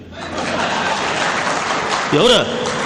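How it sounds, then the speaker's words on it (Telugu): Audience clapping during a motivational speech, a dense, steady patter of applause with some chuckling, as a voice rises over it near the end. "ఎవరు ఆ చప్పట్లు కొట్టింది?"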